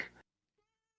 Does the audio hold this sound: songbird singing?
no